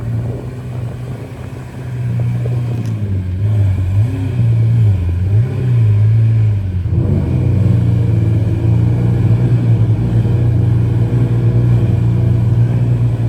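A Lamborghini V12 car engine revving loudly nearby, a deep sustained rumble that rises and dips through several throttle blips before settling into a steady, powerful drone.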